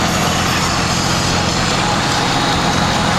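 A 2004.5 Dodge Cummins diesel truck with 4.10 gears and a 48RE transmission drives along in second gear, its engine giving a steady, close, low rumbling drone with road and cabin noise and no talking.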